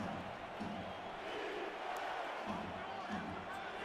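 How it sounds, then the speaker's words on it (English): Distant stadium crowd at an indoor football game between Tallahassee Pride and Alaska Storm, a low steady roar with faint swells, partly under a commentator's voice. "Crowd getting into it."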